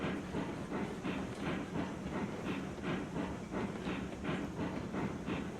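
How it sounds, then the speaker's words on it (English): Steam locomotive in the Railroads Online game, chugging in a steady, even rhythm of hissing exhaust beats over a continuous mechanical rumble, close and loud with no talk. "So you can actually hear a train chugging."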